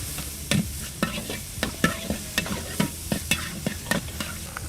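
Chili paste stir-fried in a hot wok for Thai pad kaprao at a Bangkok street food stall: loud, close sizzling with sharp rhythmic clanks and scrapes of a spatula roughly twice a second.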